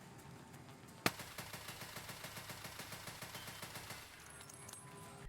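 Short-barrel RSASS rifle in Escape From Tarkov firing a rapid, evenly spaced string of shots, opening with a loud crack then roughly twenty steady reports over several seconds, fairly distant in the mix.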